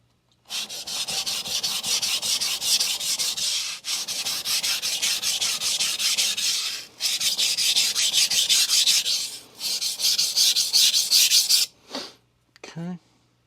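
Knife bevel ground on a Sun Tiger GC220 grit stone: long, loud, even rasping strokes in four sustained bursts with brief pauses, ending in a few short scrapes.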